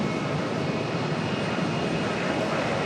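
A JetBlue airliner taxis out at Charlotte airport, its engines producing a steady, moderately loud whine and rumble that holds constant throughout, with no voices heard.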